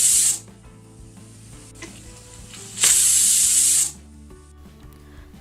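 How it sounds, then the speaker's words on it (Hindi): A loud, steady hiss of steam escaping from a pressure cooker of dal in two bursts, first briefly, then for about a second, over a quiet kitchen background. "गर्म कुकर में की स्टीम निकाल दीजिए"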